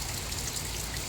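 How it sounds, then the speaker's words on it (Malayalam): Heavy rain falls steadily outdoors in Kerala during a spell of monsoon weather, a dense continuous hiss of drops on surfaces, close and even throughout without pauses. "നല്ല മഴയാണ് കേട്ടോ."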